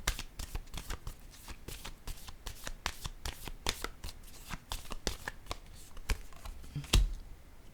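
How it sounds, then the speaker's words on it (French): Quick rustling and snapping of playing cards being handled and drawn from a deck, a close run of crisp, irregular flicks with a soft thump near the end. "j'ai besoin de piger une autre carte ici"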